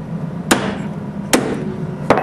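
Three sharp metallic hammer strikes punch through a drilled-out bolt on a Land Rover Defender bulkhead, spaced under a second apart, loud and close with a faint background hum between blows.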